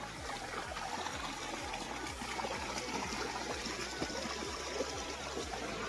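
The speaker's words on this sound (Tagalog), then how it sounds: "Yung tubig dyan, fresh na fresh mga kalangga." Clear, fresh stream water flows steadily in a continuous, even babble of trickling and rushing close by, with no talk over it.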